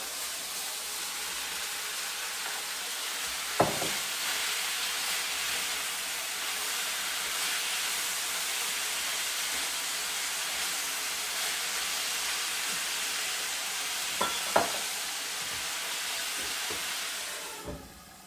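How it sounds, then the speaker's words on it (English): Beef and tomato are stirred in a soup pot, giving a steady, even sizzling hiss throughout, broken by a few sharp clanks of a utensil against the pot, with no talk. "And then stir one more time. And then I will drop in the tomato."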